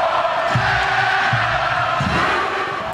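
Thousands of Chattanooga FC fans roaring in a packed stadium at a national final, a broad sustained crowd din with rising shouts and chant-like swells, loud and distant.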